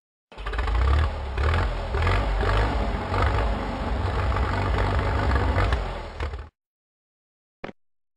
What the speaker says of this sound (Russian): Трактор.